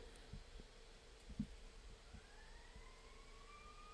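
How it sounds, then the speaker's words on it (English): An ambulance siren wails faintly in the distance outside, a rising tone that emerges in the second half beneath low room noise and a few soft thumps. "Please tell me that this ambulance siren, right after I said that, this ambulance siren got picked up."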